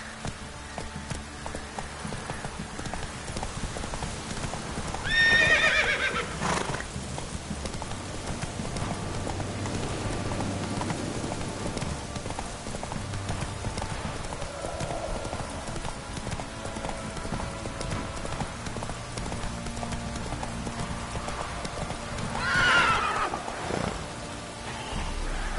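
Roach the horse from Witcher 3 gallops with a steady, close clip-clop of hooves throughout, over a soft rain-like hiss of ambient game sound.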